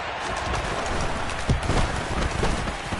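Rain falls during a high school football game between the Dolphins and the Knights, a dense, steady outdoor hiss with a few soft thuds mixed in and no voices.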